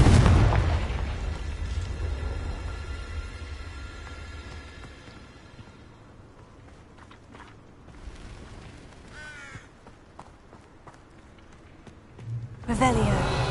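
Confringo fire spell blasts in the video game Hogwarts Legacy, a loud booming explosion that fades into a long rumble, then quieter crackles and a second burst near the end.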